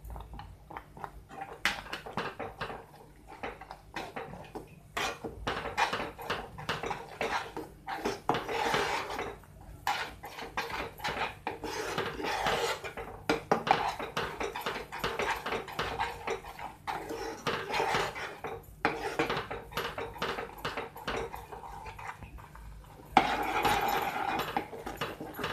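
Salt and spices being mixed into sweet lemon pickle, a long stretch of steady scraping and clinking of a spoon against a bowl, close and fairly loud, with a sharper knock near the end.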